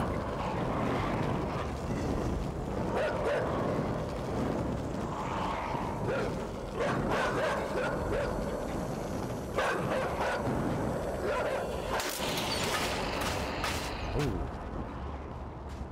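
Dogs in a video game bark in scattered bursts amid a dense, rumbling game soundscape, with sharper barks and yips clustering toward the end.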